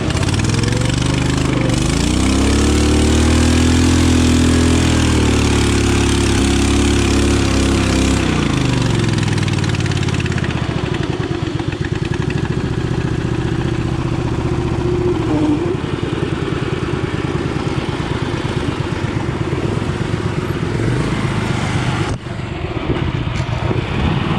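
Mud mower engine running hard during trail driving in third gear, a loud continuous revving drone with pitch swells early, then a steady rough clattering run.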